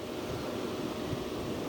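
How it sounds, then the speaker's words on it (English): Constant wind buffeting a microphone outdoors at Lihue Airport, Hawaii, a low rumbling roar with no breaks, steady and loud throughout. "it's getting quite windy."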